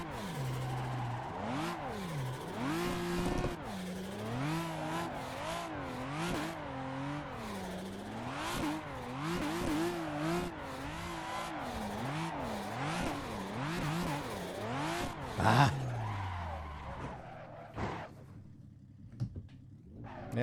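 A BMW E30 drifts in the Assetto Corsa racing sim, its engine wailing and bouncing up and down in repeated rev swings with brief tire scrubs, then falling quiet near the end.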